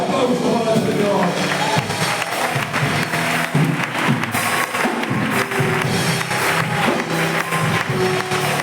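A church congregation in Palencia claps together in a sustained burst of applause, a dense, fairly loud wash of hand claps with voices mixed in.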